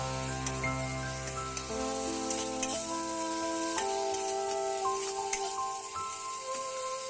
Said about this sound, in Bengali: মশলাগুলো ভালোভাবে কষিয়ে নিতে হবে